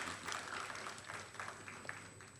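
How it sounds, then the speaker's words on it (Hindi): An audience applauds to welcome a guest on stage at a film-industry event, a faint, dense, steady patter of clapping heard from a distance throughout. "जोरदार तालियां स्वागत कीजिए"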